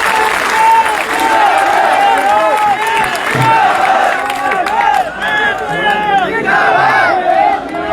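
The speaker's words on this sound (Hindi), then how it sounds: "जोरदार तालियों से उनका स्वागत किया जाएगा।" A large outdoor crowd claps and cheers loudly and steadily to welcome a politician at an Aam Aadmi Party rally in the Anta-Mangrol assembly constituency, with voices shouting through the dense applause.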